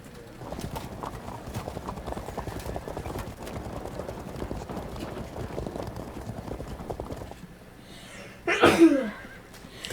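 A loud sneeze, then a second quick one right after it, bursts out near the end over a steady background of clip-clopping horse hooves during a medieval battle game.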